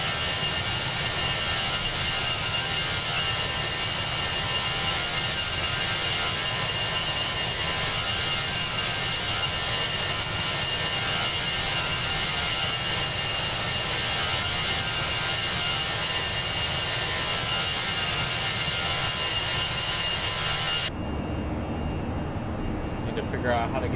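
Steady, loud jet engine drone from an Airbus A321 with a new engine option in X-Plane 11, a broadband roar holding level for about twenty seconds before the tone shifts abruptly near the end.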